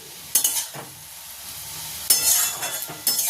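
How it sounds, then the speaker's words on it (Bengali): Chopped bottle gourd curry frying in a pan over the stove, with loud spatula stirs and scrapes in a few bursts over a constant close sizzle. "আর 1 মিনিট মতন লাউটা একটু ভেজে আমি কিন্তু জল দিয়ে দেবো"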